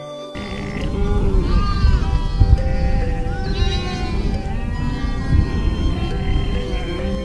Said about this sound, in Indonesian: kambing jantan usianya pas untuk kurban